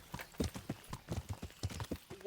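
A horse's hooves clip-clop in the medieval video game Kingdom Come: Deliverance. The hoofbeats are quiet, steady and rhythmic, and they continue evenly throughout.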